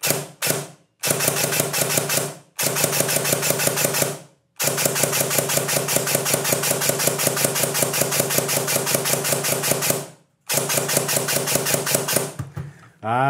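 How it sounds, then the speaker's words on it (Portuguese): An MDR-X airsoft rifle under repair, fired in semi-automatic mode: loud, close mechanical bursts of rapid rhythmic cycling, several long runs separated by brief silences, with no talking. "Seletor de disparos no semi automático. Vamos dar uns disparos aqui, vamos ver."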